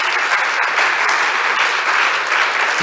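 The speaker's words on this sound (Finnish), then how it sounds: "Kiitoksia vielä aplodit Helille tästä puheenvuorosta." A conference audience at the GeoForum Summit 2023 applauds steadily after a talk. It is a loud, dense, even wash of many hands clapping together with no break.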